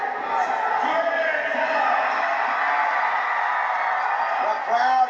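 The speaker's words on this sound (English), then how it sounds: "The crowd cheering the king of the monster trucks, Bigfoot." A 1988 monster truck event crowd cheers steadily for winner Bigfoot, a dense continuous roar with scattered whoops that swells slightly near the end.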